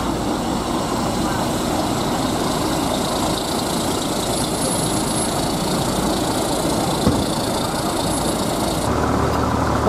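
Mercedes-Benz 2542 truck-chassis bus engine idling at a bus terminal, a steady loud low rumble running throughout with a faint background hum, no talk over it.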